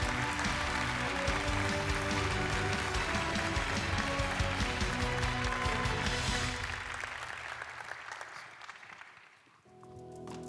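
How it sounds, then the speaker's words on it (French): An audience at an awards evening applauds a prize winner, dense sustained clapping that fades out over several seconds before a brief quieter stretch. "On peut l'applaudir."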